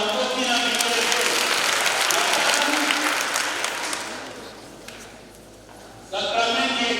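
Steady, close crowd clapping fills a church gathering for first communion children at Kijenge parish, Arusha, holding strong for about four seconds before tapering off. A speaker's voice then cuts back in.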